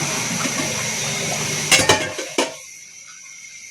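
A metal lid set down on a cooking pot of curry, two or three sharp clanks and a brief rattle cutting through steady kitchen hiss, after which the sizzle drops away to near quiet.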